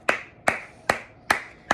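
Five separate hand claps ring out at an even, unhurried pace, sharp and close, each followed by a short decay, with no talking.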